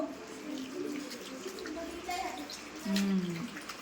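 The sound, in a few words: tap water running while a child washes hands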